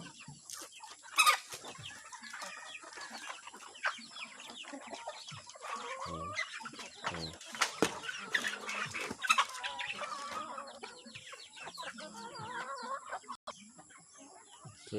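Chickens clucking in a spacious coop, a busy flock of close and scattered clucks with occasional louder calls over a quiet farm background, without talk.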